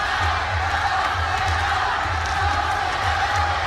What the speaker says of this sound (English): And this crowd, which is very uncharacteristic in Japan, are cheering for both Hasegawa and Aung La Unsong.